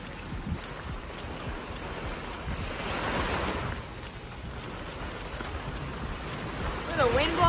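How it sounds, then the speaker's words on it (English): Wind and rain gusting around a sailboat during a storm, with thunder in the area: a continuous roaring rush of wind noise and surf-like wash swelling and easing, rough buffeting close to the microphone, no clear talk. "Windy, rain, getting a little crazy."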